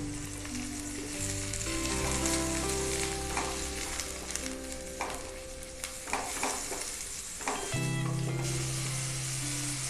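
Ground chicken frying in spice paste crackles and sizzles steadily, loud and close, with scraping stirs and small thumps of a spoon in the pan, with no voices.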